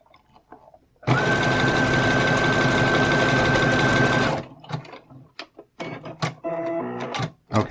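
A sewing machine stitches through thick bow tie material in one loud, fast burst lasting about three seconds, followed by scattered clicks, handling noises and short mechanical bursts.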